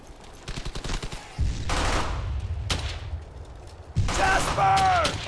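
Bursts of machine gun fire from the video game Brothers in Arms: Hell's Highway, loud and close: rapid rattling volleys, then heavy sustained firing, with shouted voices over the din near the end.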